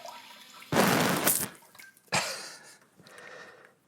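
A Samodra Button Bidet Classic 8.0 sends out two short, close bursts of hissing water spray, the first longer and fuller, the second briefer, each trailing off into quiet dripping.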